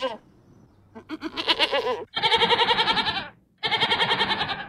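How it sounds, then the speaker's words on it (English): Goat bleats in a radio station jingle come loud and close as a series of wavering, quavering cries separated by brief pauses, with a voice and production effects mixed in. "Mess with the goat. You'll get the horns, then the butt. Because that's what goats do."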